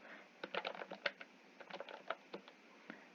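Keys tapped on a computer keyboard in irregular quick bursts of clicks, fairly close and quiet, with no voices.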